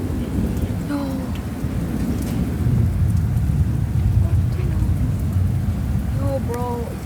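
Heavy rain pours down steadily during a thunderstorm, with a deep rumble of thunder rolling beneath it and a few faint chirps in the background, loud and continuous throughout.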